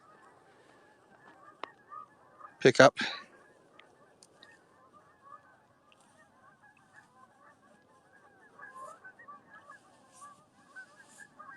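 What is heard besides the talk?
geese honking in grasslands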